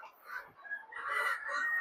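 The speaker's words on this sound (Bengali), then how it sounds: "ওই যে ওই মুরগিগুলো ওখানে খাচ্ছে" Chickens at feeding time in a farmyard, giving soft clucks and faint calls mixed with quiet, close speech from people handing out the feed.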